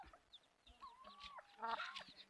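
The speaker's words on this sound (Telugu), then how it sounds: "ఇది కూడా కల్తీ పందెం కోడి పిల్ల" A crossbred fighting-cock chick on a country chicken farm in the forest gives a few soft, drawn-out chirping calls, fairly close and faint against a quiet background.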